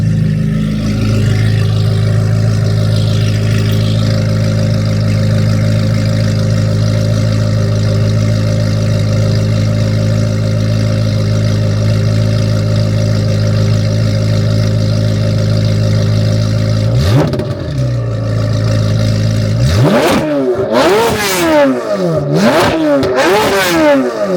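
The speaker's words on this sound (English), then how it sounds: "Let's head outside real quick, give you a little exhaust note, how she truly sounds" A C8 Corvette Z06 with a cat-delete exhaust idles with a deep, steady, loud rumble, then near the end blips and revs several times in quick, snarling bursts.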